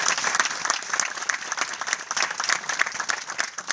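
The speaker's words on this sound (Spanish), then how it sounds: "Un aplauso desde acá." A live audience at a radio show event breaks into dense, sustained applause, many hands clapping steadily and loudly throughout with no speech over it.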